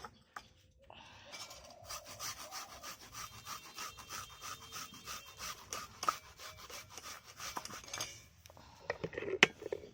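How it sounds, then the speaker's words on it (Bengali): An onion is rubbed against a hand grater into a bowl, making close, rhythmic rasping strokes at a steady pace that end with a couple of clinks. "পেঁয়াজটা ঘষা মেশিন দিয়ে আমি ঘষে নিচ্ছি।"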